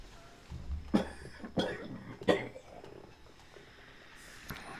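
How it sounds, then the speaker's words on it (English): Three harsh coughs burst out in succession at close range, separated by short pauses, followed by quieter shuffling. "Hold on, I got a cough."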